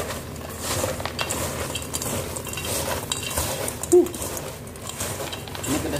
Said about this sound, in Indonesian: Lalu kita aduk kerajin,